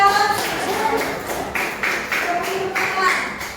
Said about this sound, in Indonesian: kita beri tepuk tangan untuk kelompok dua